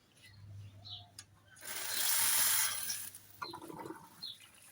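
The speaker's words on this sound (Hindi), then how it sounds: "हम गार्डन को पानी दे देते हैं" Water gushes onto dry potted garden plants at home, a broad hiss swelling for about two seconds between quieter splashing and trickling, fairly close with no talking.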